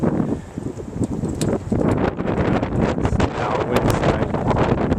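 Gusty wind buffets and roars in bursts during a Buffalo blizzard outdoors, close and rough with fluctuating intensity.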